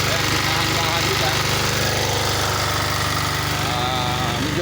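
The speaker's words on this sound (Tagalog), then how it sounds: "Medyo maingay lang ang makina." A generator engine drives a water pump draining a fishpond, its loud, continuous mechanical drone filling the whole stretch close by, with faint voices now and then underneath.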